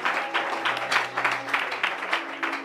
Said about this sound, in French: Si tu veux acclamer, tu acclames bien.